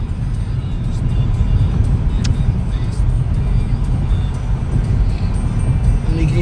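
A 2019 Toyota Corolla with a six-speed gearbox on a test drive gives a steady, close low engine and road rumble that runs unbroken through the whole stretch, with no talk over it.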